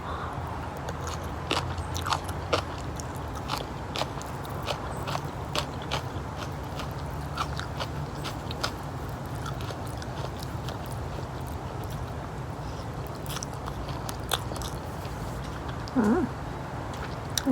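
Fried noodles with pork sausage being eaten up close, with steady wet chewing and irregular bites and utensil clicks over a quiet room background for the whole stretch.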